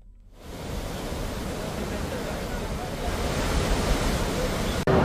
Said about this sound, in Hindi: 90 फीट की ऊंचाई से गिरता इंद्रावती नदी का पानी लोगों को रोमांचित भी कर रहा है।